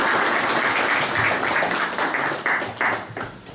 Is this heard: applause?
yes